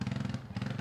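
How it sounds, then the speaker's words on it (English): Loud motorcycles passing on a road, a low, pulsing engine rumble that sounds fairly close and continuous over this short stretch, with no talk over it. "And we got some loud motorcycles around."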